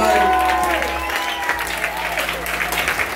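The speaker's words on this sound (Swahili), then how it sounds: "Pigia Yesu makofi mazuri kwa makofi." A church congregation claps together in sustained, steady applause, the dense patter carrying evenly throughout with a faint tonal hum behind it.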